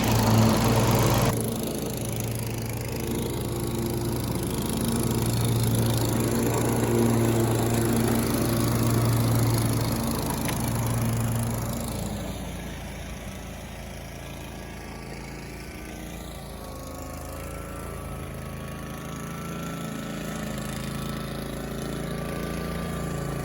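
Hustler Fastrak zero-turn riding mower fitted with a grass catcher bagger, cutting grass: a steady, loud engine drone with blade whir that drops somewhat in level partway through, continuing without speech.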